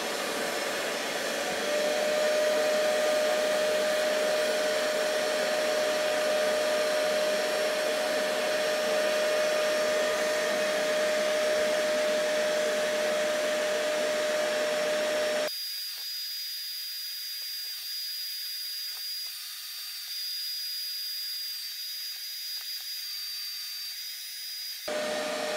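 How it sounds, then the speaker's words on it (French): Vacmast carpet and textile cleaner spraying onto a stain and running with a steady, loud whining hiss that holds throughout, changing to a thinner, higher tone partway through, with no talking. "C'est parti avec l'appareil. Je vaporise bien la zone."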